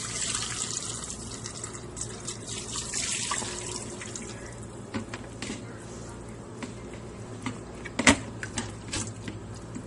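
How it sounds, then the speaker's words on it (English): Boiled macaroni water pours from a pot into a colander in a home kitchen sink, a steady rushing splash that is loudest at first and then eases, with scattered clinks and knocks. "And just pour it into the drainer."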